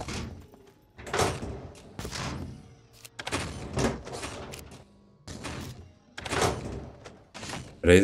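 Cabinet doors in the survival video game SCUM swing open in a run of several close, hollow thunks and knocks, spaced irregularly over a faint background.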